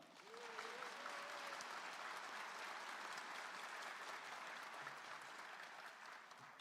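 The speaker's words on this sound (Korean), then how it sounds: "그렇게 도와주시라고 큰 박수 한번 부탁드립니다" An audience at a public hearing on administrative integration in Haenam County applauds in a sustained, dense burst of clapping that swells quickly and then holds steady, heard fairly close in a hall after a speaker's call.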